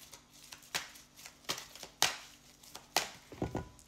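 Tarot cards being shuffled and laid out for a reading, with a handful of sharp flicking and slapping bursts at irregular intervals, close and fairly quiet, ending in a brief cluster of soft rustles.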